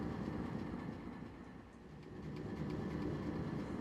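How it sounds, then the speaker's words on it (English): A train rolling along a track atop a building in the Minecraft video game, heard as a steady, continuous low rumble with rattling that dips briefly midway, with no talking. "I forgot there was that train up there."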